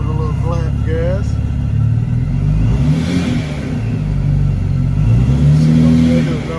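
A 2013 Cadillac CTS coupe with a supercharged 3.6 AWD engine, suspected of a vacuum leak, revs up and settles in loud, close swells, while someone speaks over it.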